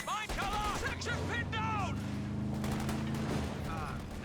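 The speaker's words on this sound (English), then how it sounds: "50 cal suppressing the Volks Grenadiers." A .50 cal machine gun fires in a Company of Heroes 2 battle, suppressing Volksgrenadier infantry; rapid bursts rattle amid dense combat noise and booms, with a commentator's voice running over the gunfire throughout.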